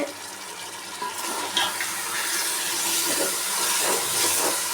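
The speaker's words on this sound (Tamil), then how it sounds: "பாருங்க, இது நல்லா கொதிக்குது." Steady bubbling and hissing of water at a rolling boil in a pot for Hyderabadi biryani, a broad continuous rush with small pops throughout, close by and fairly loud.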